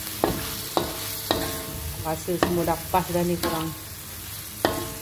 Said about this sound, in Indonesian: Goreng sekejap, lepas tu kita angkat ya.